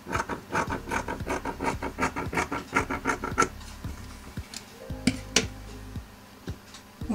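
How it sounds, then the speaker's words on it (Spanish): Scissors cut through a scrap of fabric with a run of quick, rhythmic snipping and rasping strokes for about three seconds, then fainter, scattered clicks and rustles nearby. "Vamos a buscar un retazo de tela. Vamos a cortar"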